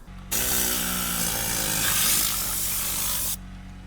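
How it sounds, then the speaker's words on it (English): Compressed air hissing in a loud, steady blast from a small air compressor's line while a car interior is blown out. It starts abruptly, holds, then cuts off over a low background hum. "the air compressor just turned on because I have a little compressor"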